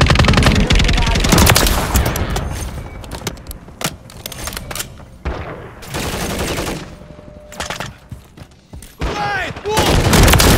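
Call of Duty Modern Warfare 3 multiplayer firefight with loud, rapid automatic gunfire coming in bursts separated by short lulls. Individual sharp cracks sit between the bursts, and voices shout briefly in the mix.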